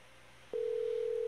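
A telephone dial tone begins abruptly while a call is being placed, a steady, unbroken hum that holds at an even level for the rest of the moment, clear and alone over faint background noise.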